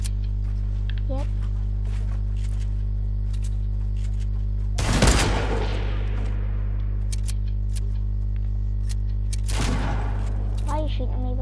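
Two loud pump shotgun blasts ring out several seconds apart in a video game, each a sharp close burst over a constant low hum, with voices talking around them.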